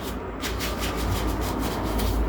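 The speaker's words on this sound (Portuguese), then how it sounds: "vamos detalhar então essa ventoinha aqui. Bem simples, papel higiênico e álcool." Computer cooling fan blades wiped with toilet paper and rubbing alcohol, a steady close papery rubbing in repeated strokes, fairly loud over a low rumble, with no voices.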